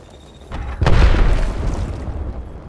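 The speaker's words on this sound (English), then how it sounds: "grenade." A grenade detonates in the video game Apex Legends: a single loud, close boom with a sharp onset that rolls off into a long rumbling tail, preceded by quieter game ambience.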